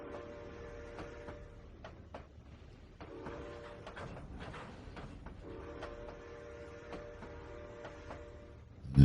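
Automatic train whistles sound in the Trainz 2019 railroad game on the C&O Hinton route, as a steady multi-tone horn drones in long blasts over continuous rumbling rail noise, with a brief loud knock at the very end.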